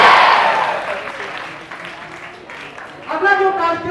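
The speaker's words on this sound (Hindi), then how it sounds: "जोरदार तालियों से इन बच्चियों का तालियों से स्वागत कीजिए" Applause from a school audience at a Diwali and Chhath rangoli competition, a broad burst of clapping that starts loud and fades over several seconds, with a voice speaking over the end.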